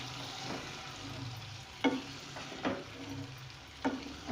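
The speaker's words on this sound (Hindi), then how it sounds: "अब वो मटर मैं इसमें डालूंगी" Peas and machine-minced keema fry and sizzle in a pan, a steady close hiss broken by a few louder scrapes and clacks of a stirring spoon, with no talking.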